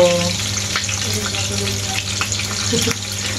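Steady sizzling of fish frying in hot oil, with faint clinks and splashes of water in the background.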